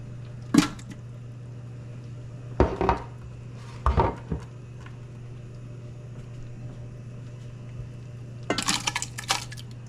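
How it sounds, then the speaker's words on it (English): Strawberries dumped into a cooking pot while making homemade jam, a few separate clattering thuds and metallic knocks spaced seconds apart over a steady low hum, with a busier rattle at the end. "Leland, you're gonna dump the strawberries into the pot and turn my pot on"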